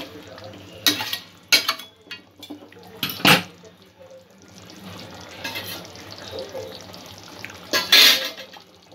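Vegetable korma in a pot being stirred after coconut milk goes in: a low wet bubbling with several short spoon scrapes and clatters against the pot, close and moderately loud.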